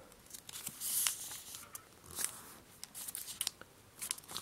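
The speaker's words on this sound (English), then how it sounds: "take this edge here and fold it into the middle" Origami paper being folded and creased, with soft crisp rustles and sharp crinkling snaps at an irregular pace, close and fairly quiet, no voice.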